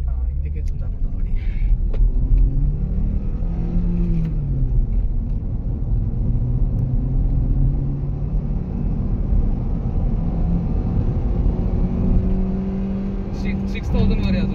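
An old Honda Accord engine revs hard while accelerating in traffic, its note climbing and falling in rising sweeps over a steady, loud road rumble. Someone speaks over the engine sound.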